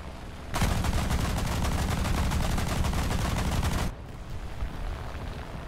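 Aircraft guns in a video game gun run let off one dense, continuous burst of rapid fire for about three seconds, loud and close, then cut off into a lower rumbling background.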